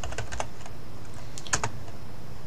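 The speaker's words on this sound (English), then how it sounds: "So we're going to type in camping" Quick bursts of keystrokes on a computer keyboard as a search term is entered, light clicks in two short clusters with a pause between, close and fairly quiet.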